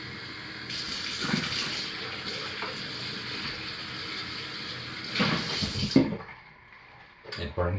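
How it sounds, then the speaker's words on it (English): Lye water lightened with titanium dioxide poured into soap-making oils at about 82 °F, a steady liquid gush and fill lasting several seconds, close, ending with a few splashy trickles. "let's pour our lightened lye water titanium dioxide solution into our oils"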